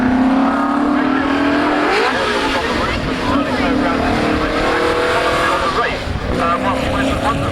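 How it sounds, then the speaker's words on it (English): A Jaguar XK120 race car roars past on a circuit, its loud engine note rising and shifting as it accelerates by, with a steady crowd-and-track din underneath throughout. "getting the grips with the XK120 Jaguar going through there"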